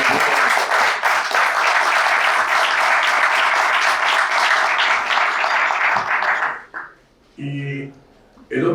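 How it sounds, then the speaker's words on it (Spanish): An audience at a forum on the 40-hour work week gives loud, sustained applause to women lawyers for about six seconds, then it fades out and a voice begins speaking. "quiero darles un fuerte aplauso a las mujeres abogadas"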